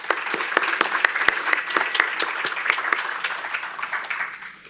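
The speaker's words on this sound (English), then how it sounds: "Let's have a round of applause for them." A round of applause rings through the room at a business awards event, many hands clapping at a steady level with a few sharp close claps, tapering slightly at the end.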